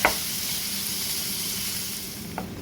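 Ground beef browning in a pan, a dense, even sizzle throughout with a couple of light spatula taps at the start and end, close-up and without speech.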